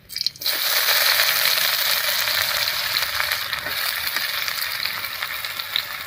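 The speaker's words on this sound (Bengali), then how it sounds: "ফোড়নটা ভাজা হয়ে গেছে এবার এর মধ্যে দেব পেঁয়াজ কুচি" Chopped onion drops into hot oil already holding whole garam masala, a dried red chilli and cumin seeds, bursting into a loud, steady close-up sizzle with scraping stirs.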